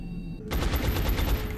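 Automatic gunfire erupts after a brief quiet moment in XCOM Enemy Within, a sustained rapid burst of shots running steadily to the end.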